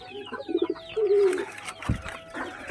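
Pigeons coo close by inside their coop, with several throaty, warbling calls in quick succession, followed by a thump and some rustling.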